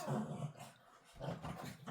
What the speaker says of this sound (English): there's all dogs barking outside